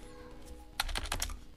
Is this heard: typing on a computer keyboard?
yes